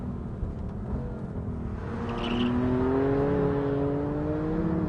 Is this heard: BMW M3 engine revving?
yes